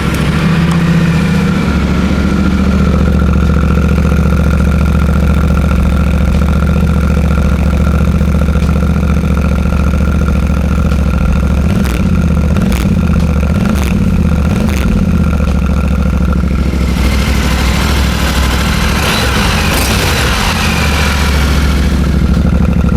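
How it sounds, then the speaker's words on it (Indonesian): Yamaha Tenere 700 World Raid with its 700cc CP2 crossplane twin on the stock exhaust, idling loud and close with a steady low throb, broken by a few short blips of the throttle partway through. "itu dia suara dari mesin Crossplane 2-nya Yamaha 700cc"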